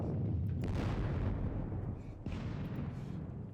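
Cannon fire in the Napoleonic wargame WDS Jena, heavy booming rumble rolling continuously with a second blast swelling partway through, loud and dense with no talk.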